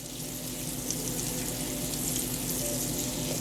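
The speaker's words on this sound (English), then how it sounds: "Turn this grease up a little bit. Get this little bit of butter and this grease going" A small amount of butter and grease sizzles steadily in a frying pan, making an even, close hiss that holds at the same level throughout with no talking.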